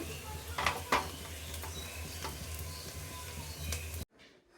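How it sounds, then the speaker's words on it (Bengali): Onions frying in a pan, a steady sizzle broken by a few sharp metal scrapes and clinks of stirring, close and fairly loud, cutting off abruptly near the end. "আমি এখন পেঁয়াজটা ভেজে ভেজে নিচ্ছি।"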